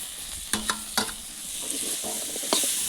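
Potatoes frying in a pan for a village-style meat curry, a steady bright sizzle with a few sharp scrapes and clinks of stirring, close and fairly loud, with no talking.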